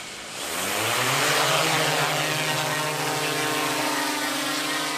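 A buzzing multi-rotor whine of a livestock-mustering drone spins up and rises in pitch, then holds a steady, fairly close hum with slowly shifting tones.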